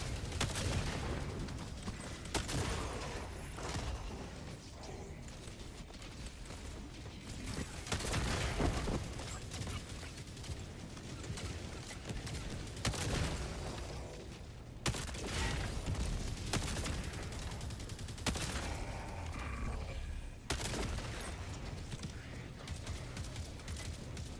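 Machine gun fire in the video game Helldivers 2, sustained bursts of loud automatic shots with short pauses between volleys, mixed with other battle noise throughout.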